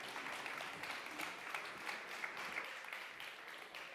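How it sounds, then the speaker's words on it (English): Audience applause after a session at an expo main stage: steady, dense clapping from a crowd, moderately distant and even throughout, with no speech over it. "So please give them a big applause."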